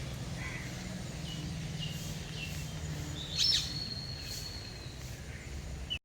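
Morning birds near Kakinada chirp in a few faint, scattered calls, with one clearer tweet midway, over a steady low hum of background noise and no talking.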